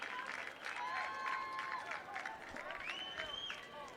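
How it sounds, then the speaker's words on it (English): Crowd of girls' high school soccer fans at a semi-state match cheering and applauding after a goal, a steady roar of voices and clapping with shrill shouts rising above, with an announcer's voice audible over it. "Millers fans finally have something to cheer about with that goal coming at 37-11 by Jessica Hudnall"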